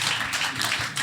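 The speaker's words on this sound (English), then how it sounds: "round of applause for Chris" Brief burst of applause at a brewery gathering, dense clapping from a small audience lasting about a second.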